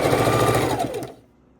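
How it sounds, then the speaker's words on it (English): A sewing machine runs steadily for about a second, stitching 2-inch blue border strips together for a king size quilt, then stops abruptly. The whirring is loud and close, with no voices. "now we are sewing them together"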